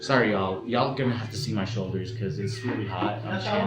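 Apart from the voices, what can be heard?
No everyday noises stand out.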